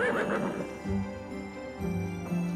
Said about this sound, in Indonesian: Itu mah emang suara kuda.